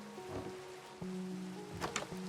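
Steady rain ambience falls in the Minecraft video game, a soft continuous hiss with scattered drop patter and faint tonal game notes underneath.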